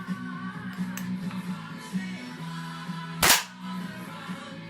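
A WE XM177 airsoft gas blowback rifle, fitted with a real steel spring and buffer, fires a single sharp shot about two-thirds of the way through, standing out loudly over a steady low background hum.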